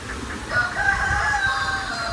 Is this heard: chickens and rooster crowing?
yes